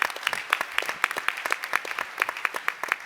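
Scattered applause follows a student ambassador's pitch of a sports initiative to a panel: a small group clapping in a loose, uneven rhythm with distinct individual claps throughout.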